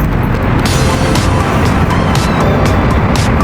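A car pulls away, its engine noise steady and loud throughout, with a broad rush of road and motor sound close by.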